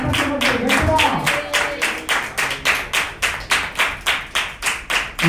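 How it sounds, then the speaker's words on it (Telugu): A church congregation in rural Andhra Pradesh claps in unison in praise, sharp rhythmic handclaps at a steady, even pace that carry on after a short stretch of voices at the start. "నేను దేవుని ఆత్మలో సంతోషించానన్న వాళ్ళు చప్పట్లు కొడుతూ దేవుడిని మహిమపరచాలి"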